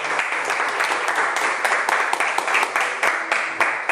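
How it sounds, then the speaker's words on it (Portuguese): Church congregation clapping together in praise during a sermon, a dense, sustained round of applause filling the hall with sharp individual claps standing out. "Dá uma salva de palmas para o Senhor"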